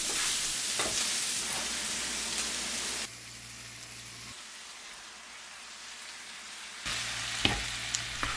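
Onions, green peppers and tomatoes frying in a pan, a close, steady sizzle that drops to a quieter hiss midway and then comes back louder, with a few sharp clicks near the end.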